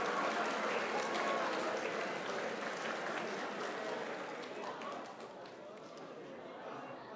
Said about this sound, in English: turn to one another and give yourselves a resounding round of applause because you deserve it